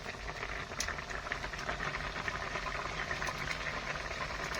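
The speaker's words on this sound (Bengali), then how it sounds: "দেখুন তরকারি কিন্তু ফুটছে" Vegetable curry boiling in a pot gives a low, even bubbling and simmer rumble, faint and steady throughout, with light patter on top and no voices.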